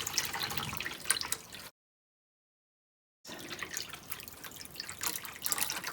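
Water pours and trickles into a container while filling it for an eco printing mordant bath, a steady splashing stream broken by a short silent gap before it resumes.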